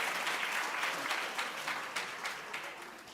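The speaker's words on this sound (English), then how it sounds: "Ladies and gentlemen, another round of applause." A gala audience at the Western Cape Prestige Agri Awards applauds the Agri Worker of the Year winner, many hands clapping steadily before slowly tapering off.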